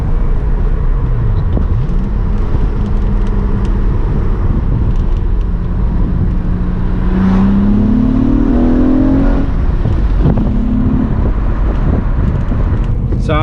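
An Acura TL SH-AWD fitted with Borla Pro XS mufflers downshifts while driving with the windows down, engine droning steadily and rising in pitch under wind rush, with faint talk partway through.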